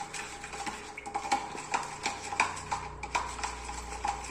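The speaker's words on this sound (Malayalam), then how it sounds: "അതിനുശേഷം ഇതെല്ലാം കൂടെ നമുക്ക് നന്നായിട്ടൊന്ന് മിക്സ് ചെയ്ത് കൊടുക്കാം." A spoon scraping and clinking against a bowl while mixing salt and coffee powder, with repeated rhythmic taps and stirring scrapes at close range and no talking.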